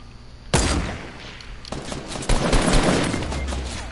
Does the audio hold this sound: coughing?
no